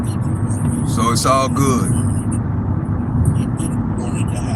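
Steady low road rumble inside a vehicle cruising on a highway through Katy toward San Antonio in rainy weather, a constant drone with someone talking over it briefly.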